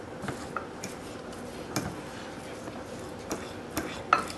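A fork mashes boiled egg finely in a bowl, giving faint, scattered clicks and light taps of metal against the dish, quiet and irregular.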